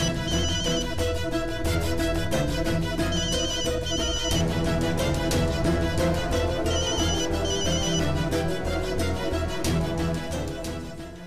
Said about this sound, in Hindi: मम्मा थोड़ा फोन आ रहा है।